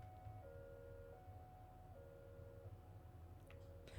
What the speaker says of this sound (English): that is a siren outside my house